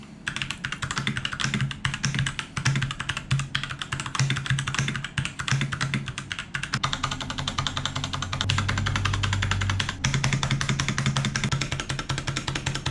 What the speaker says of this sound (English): It is a 68 key gaming keyboard. This one came with red switches